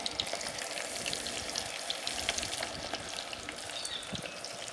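Plantain leaves fry in hot oil while a medicinal salve is made, giving a steady, soft crackling sizzle with scattered tiny pops.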